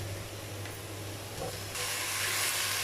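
Marinated chicken sizzles in a pan with onions as it fries for a white qorma, giving a steady, close hiss that grows a little louder toward the end, with no talking.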